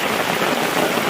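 Dense rain pours on open village farmland, a loud, unbroken wash of hissing drops with no other sounds.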